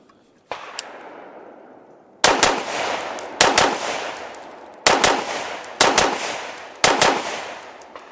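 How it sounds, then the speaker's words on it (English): Pistol shots fired as double taps on a shooting range, sharp loud cracks arriving in quick pairs about a second apart, each followed by a ringing echo tail, with one lone shot opening the sequence. "I just want to go ahead and double tap each one of those so that we can see what's going on."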